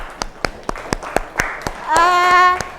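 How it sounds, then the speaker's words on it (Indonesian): A classroom group claps in scattered, uneven hands at first, building into fuller applause, with a sustained tone rising alongside near the end. "Kita beri tepuk tangan untuk pembelajaran kita hari ini"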